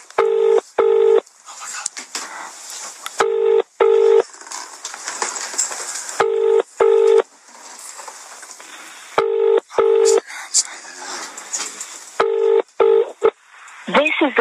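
Telephone keypad tones sound as a number is dialed on a phone, coming in short bursts of several beeps each. The bursts repeat at intervals between lively talk and laughter from people nearby.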